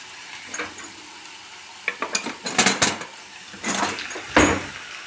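Potatoes frying in oil in a home kitchen pan, with a low steady sizzle under clattering stirs and utensil scrapes that come in short bursts, close and moderately loud.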